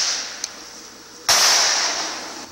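A sharp, loud gunshot cracks and echoes out in a firefight between soldiers and Abu Sayyaf fighters in Sulu, preceded by a fainter distant pop, with a long decaying reverberant tail.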